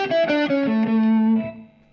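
Electric guitar playing a blues lick, with the minor pentatonic notes accented and the other notes played softer. A short run of sustained, slightly effected notes descends and settles on a long held low note that fades out.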